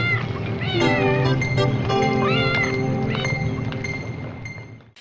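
A cat meows repeatedly in loud, close, drawn-out wails, several rising and falling cries in quick succession over a rumbling background that fades out at the end.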